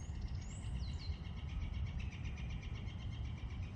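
A northern flicker calls in an early spring park, its high repeated notes thin and moderately distant over a steady low background rumble, with other faint birdsong around it.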